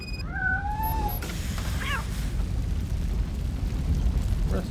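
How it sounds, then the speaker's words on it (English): A cat meows twice in quick succession with rising, drawn-out cries inside a RoboCop video game, heard clearly over a constant roar of burning fire and a short chirpy game effect. "Rescued the cat."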